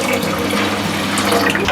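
Water pours steadily into red rice in a pressure cooker, a loud, close, continuous rushing splash with no voices.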